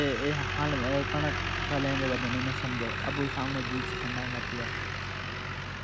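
A tractor engine runs steadily in the background as a low, constant mechanical hum, while several people talk over it.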